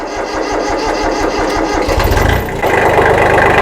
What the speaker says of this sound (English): We're going to crank the tractor.